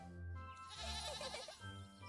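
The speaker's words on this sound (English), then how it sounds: "You know this goat?" A goat in the video game Little Goody Two Shoes gives a few close, wavering bleats in quick succession, heard clearly on its own.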